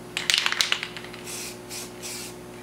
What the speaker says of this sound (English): Just gonna spray a little bit of primer on the flange.